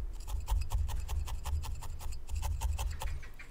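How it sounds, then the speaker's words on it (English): Wool being needle felted onto a felted rabbit head, a quick, steady stream of soft rasping stabs, close and fairly loud, repeating in a fast regular rhythm with no talking. "what I like to do is just use some of this wool and just felt it past the socket that we've added"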